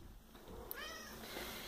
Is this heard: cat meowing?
yes